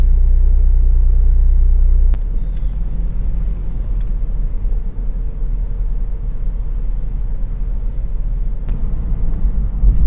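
A car drives along Alhambra, a residential street lined with mature shade trees near the University of Miami; a steady low engine and road rumble continues throughout, heavier for the first two seconds, with no talk.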